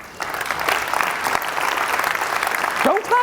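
Keynote audience applause, a full room of clapping that rises quickly and stays loud and steady, with a voice starting to speak over it at the very end.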